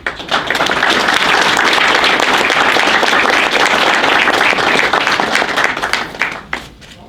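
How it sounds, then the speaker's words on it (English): Loud, sustained audience applause fills a temple hall gathering at a Hindu–Catholic dialogue event, dense clapping from a crowd lasting several seconds before tapering off at the end. "Please give an applause for all of them."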